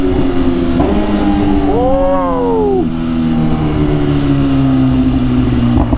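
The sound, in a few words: sport motorcycle riding and accelerating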